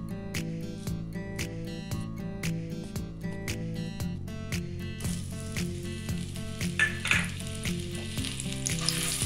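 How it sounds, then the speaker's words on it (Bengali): Onion, ginger and garlic paste frying in hot oil, heard as a hissing sizzle that grows stronger midway, partly under steady rhythmic background music. "ফোড়নের সুগন্ধ বার হলে এরপর পেঁয়াজ, আদা, রসুন পেস্টটা দিচ্ছি।"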